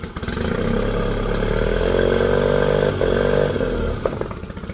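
A small buzzing model boat motor revs loudly nearby during a motor test, its whine rising and holding, then dipping briefly before climbing again, with no speech.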